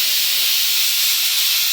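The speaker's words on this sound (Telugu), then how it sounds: "ఇలా కుక్కర్‌లో 4 విజిల్స్ వచ్చే వరకు ఉంచండి" A kitchen pressure cooker of lentils lets out steam with a loud, continuous close hiss that runs steadily with no talk.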